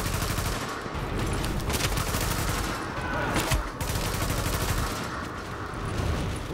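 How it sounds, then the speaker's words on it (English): Dense gunfire in The Division, overlapping rifle shots and sustained bursts crackling loudly and continuously, forming a heavy crossfire with no clear pauses. "Who else is shooting at me?"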